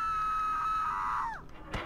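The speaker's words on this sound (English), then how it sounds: "I hear someone screaming again." A long, sustained high-pitched scream from the video game Bunker 16 bends downward and breaks off, followed by a sharp thump; faint and somewhat distant.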